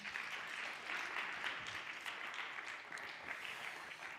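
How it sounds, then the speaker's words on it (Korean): A church congregation at a Sunday service claps together in sustained, dense applause that stays steady and moderately loud for the whole stretch, with no clear voices over it. "박수를 치시죠."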